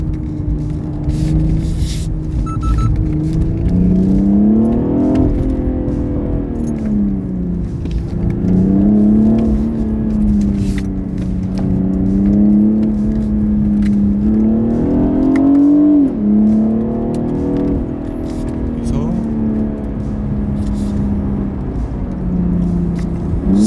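BMW 840i Gran Coupe engine and exhaust in comfort mode, held in second gear: a loud, steady low drone whose pitch rises and falls gently with the throttle, continuous throughout with no talking.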